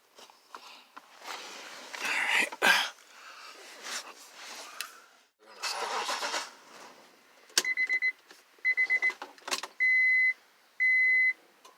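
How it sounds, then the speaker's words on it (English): Fuel pump priming on a 2004 Acura RL, heard as short electronic beeps and chimes with a brief whirring hum and soft nearby movement, the tones coming in clustered repeated bursts. "Fuel pump is priming, is working."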